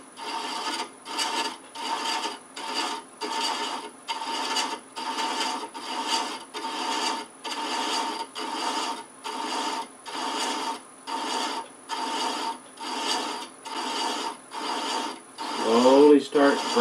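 A hand thread chaser cuts threads into a wooden box with brass inlay, giving a steady series of about twenty rhythmic rasping strokes, close and clear, with a brief shift in tone at the very end.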